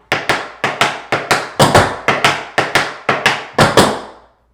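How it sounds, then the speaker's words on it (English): Tap shoes strike a hard floor in a brisk run of flaps and stamps, about a dozen sharp, loud, evenly paced hits close by, with no voice over them. "then you start on the left foot. Flap, stamp. And it is stamp, flat foot, both feet"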